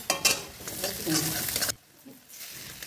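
Chopped ginger, garlic and ground pepper being stirred in a hot pan, a loud scraping sizzle that cuts off abruptly partway, leaving a quieter background.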